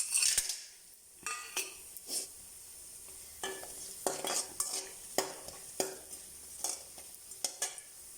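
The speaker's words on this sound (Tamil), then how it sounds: "இதை நம்ம எண்ணெயில் பொரித்து எடுத்துக்கலாம்." Small pieces of asafoetida fry in oil while a metal spoon stirs and scrapes the pan, giving repeated sharp clinks and scrapes every second or so over a soft sizzle, with no talking.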